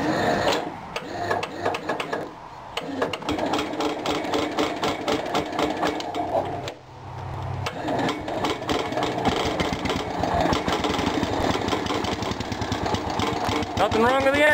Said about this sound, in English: Nothing wrong with the engine, I'm glad.